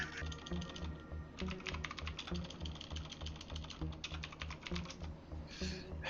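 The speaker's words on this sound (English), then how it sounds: "I'm typing." Steady typing on a computer keyboard, close and fairly quiet, a continuous patter of key clicks with brief pauses between runs of strokes.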